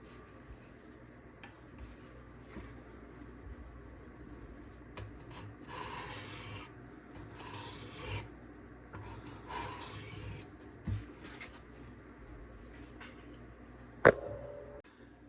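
A Benchmade Anthem knife blade rasps across a 240 grit sharpening stone to remove the burr. Three longer gritty strokes stand out in the middle, with lighter scrapes around them and a sharp tap near the end, close up and without talk.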